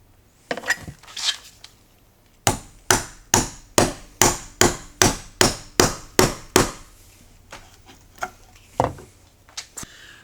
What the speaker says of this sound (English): now I'll just square up the ends of these using the 1/2 inch chisel